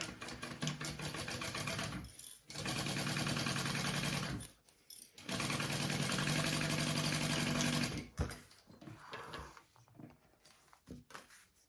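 A sewing machine stitches the slip pocket of a Roly Poly bag, running in two long steady bursts separated by brief pauses, then starting and stopping in shorter runs near the end, with no talking.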